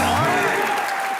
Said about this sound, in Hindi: ठोको एक बार ओरिजिनल सिद्धू बाजी के लिए तालियां।